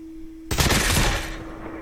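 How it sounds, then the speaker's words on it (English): A mythic gun in a video game fires its music kill effect: a sudden loud burst of rapid gunfire and bright crackling that swells for about a second, then fades, following a steady low hum. "There's music kill effect."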